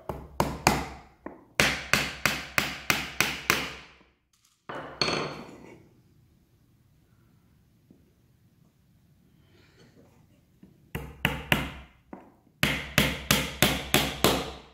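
Nails are hammered into the sides of a small wooden box, three per side. Rapid, sharp, ringing hammer blows come in close bursts, broken by a quiet pause with faint handling noise before the blows resume.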